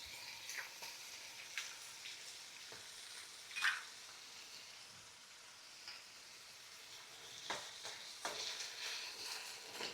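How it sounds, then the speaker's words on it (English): Eggs sizzling in a very hot pan for Lao shrimp fried rice, a soft steady crackle with occasional louder spatters and stirring scrapes, fairly quiet and with no talking. "Now, adding the eggs."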